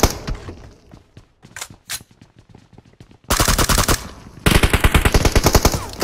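Machine gun fire in a battle royale video game: scattered single shots first, then two long, loud, rapid automatic bursts close up, with almost no talk over them.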